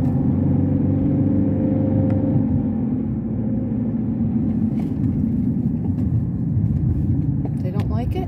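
A red Chevrolet Corvette on a road gives off a steady, loud engine rumble that holds evenly throughout, with no other sounds on top.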